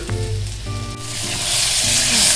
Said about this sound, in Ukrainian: кидаю сало і чекаю, поки вижариться жир.